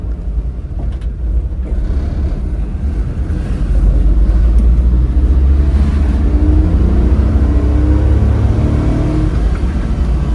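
A small car with power steering accelerates along a road in Osaka, its mid-range engine rumbling loudly and rising in pitch as it picks up speed, heard from inside the cabin.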